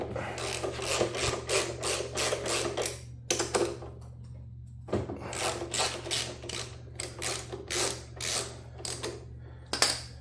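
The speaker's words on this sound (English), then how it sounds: "Alright, next, I gotta get this caliper off." Ratchet wrench working on the 12mm brake caliper bolts of a 2000 Honda Shadow motorcycle, producing rapid bursts of clicking strokes with a short pause between runs, close and fairly quiet over a faint steady hum.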